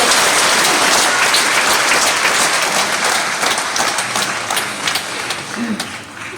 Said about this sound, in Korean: 하나님 앞에 큰 박수로 영광을 드리시겠습니다